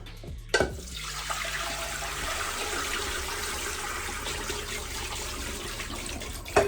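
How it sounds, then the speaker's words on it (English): Pasta water is drained, pouring steadily and rushing into a sink for several seconds, close by, with a couple of clunks at the start and end. "Drain your pasta"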